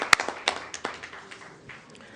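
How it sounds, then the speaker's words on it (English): A council meeting audience claps for city staff in a short, scattered burst of individual claps that fades quickly into quiet room tone. "round of applause to city staff"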